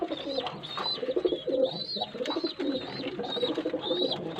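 Many pigeons in a breeding coop cooing and chirping together at close range, a dense, continuous chorus of coos with brighter calls scattered on top.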